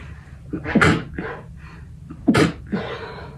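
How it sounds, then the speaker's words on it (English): Two sharp sneezes, each preceded by a quick inhaling breath, close by in a quiet room. "Sneeze, sneeze. Bless you, bless you."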